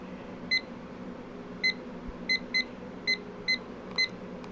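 A timer gives seven short, bright electronic beeps at irregular intervals while being set, each crisp and close over a quiet room background.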